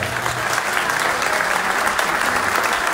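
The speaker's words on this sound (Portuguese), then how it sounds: "Uma salva de palmas para o algarvio," A crowd at a traditional Algarve and Alentejo folk performance in Agualva de Cima, Palmela, claps for a performer. The applause is dense and steady for the full stretch, loud and close, with no break.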